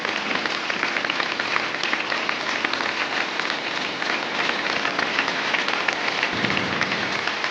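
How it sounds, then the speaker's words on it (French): An audience at a P2000 padel tournament in La Rochelle applauds after a match, a dense, continuous patter of many hands clapping that holds steady at a fairly loud level, with no speech over it. "On peut les applaudir très fort."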